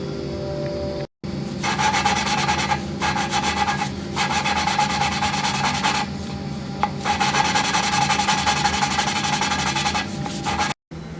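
Valves being lapped into hardened seats on a 1951 Ford Flathead engine make a steady gritty rubbing and grinding, close and continuous in long strokes with brief pauses, no voices.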